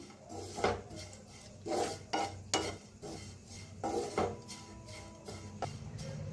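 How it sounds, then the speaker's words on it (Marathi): Grated coconut dry-roasts in a pan while a spatula stirs and scrapes it in repeated short strokes, close up, with a faint sizzle underneath and no talking. "छान असं खोबरं भाजायला लागलेलं आहे"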